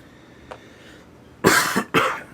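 Two harsh coughs close together near the mic, after a faint short sound and quiet background.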